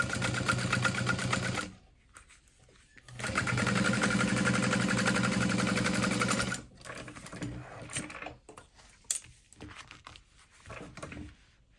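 A sewing machine runs in two long bursts of top stitching, steady and fairly loud, separated by short pauses, then gives way to quieter handling noises and soft clicks near the end.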